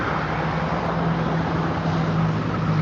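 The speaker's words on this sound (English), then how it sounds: "We're having to scream over the highway traffic just for them to hear us." Highway traffic makes a continuous, loud roadside rumble and hiss, with no single vehicle standing out and no voices over it.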